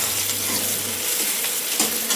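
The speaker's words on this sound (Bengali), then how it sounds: "তো এখন এই যে পেঁয়াজটা ভাজছি" Chopped onions sizzle and crackle steadily in a hot pan, being fried for a mutton bhuna, with a soft stirring scrape partway through and no voices.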